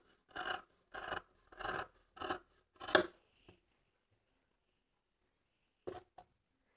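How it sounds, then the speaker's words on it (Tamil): Scissors cut a paper pattern for a blouse sleeve, giving five rasping snips in a steady rhythm, then a pause and two more short cuts, close and fairly quiet. "இதை அப்படியே வந்து கட் பண்ணி எடுத்துடலாம்."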